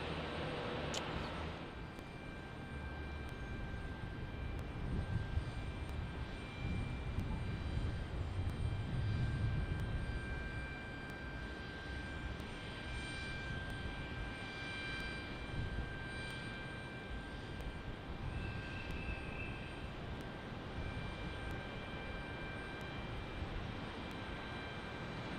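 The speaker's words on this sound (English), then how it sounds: "Again, this is a global Bombardier Global 7500" A Bombardier Global 7500 business jet at San Jose Mineta International Airport produces a steady, moderately distant engine roar with a faint whine that holds evenly for the whole stretch.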